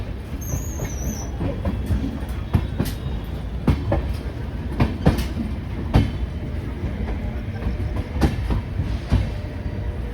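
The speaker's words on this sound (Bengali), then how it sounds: "শিয়ালদা থেকে ট্রেন ছেড়ে এখন ট্রেন তার গতি ধরে নিয়েছে" A passenger train from Sealdah picks up speed on the rails, with a steady loud rumble broken by rhythmic clickety-clack wheel beats and no talk.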